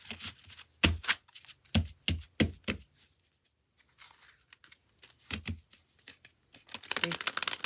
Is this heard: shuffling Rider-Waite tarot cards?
yes